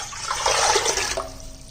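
Water pours steadily into a large cooking pot for a Gujarati pre-Uttarayan dish, a loud, continuous rushing splash heard close up with no talking.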